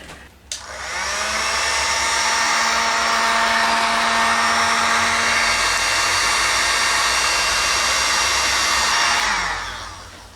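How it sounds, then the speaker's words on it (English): A heat gun shrinks tubing on an eBike battery being repaired, clicking on and blowing with a loud, steady rushing whoosh for about eight seconds before winding down, with no voices. "Let's put a little bit of heat on that,"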